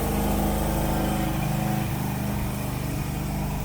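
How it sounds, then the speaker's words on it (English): A lawn mower runs steadily outdoors nearby, its engine drone loud and continuous without a break, with no talking over it. "Someone's mowing the lawn"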